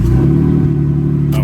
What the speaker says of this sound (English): it does run, and it sounds like it's got a little bit of an exhaust leak